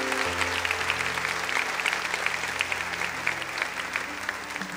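Church audience applauding steadily throughout, dense sustained clapping with a low organ or keyboard drone held underneath.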